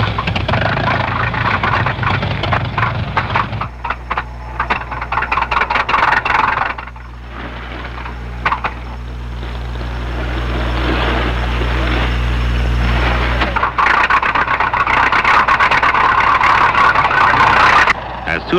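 Several early racing car engines start and idle at a race, with a rough, rumbling drone that swells and fades. Someone narrates over the engine noise.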